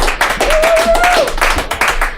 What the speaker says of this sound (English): Jeffrey Brumfield, everybody, give him a round of applause.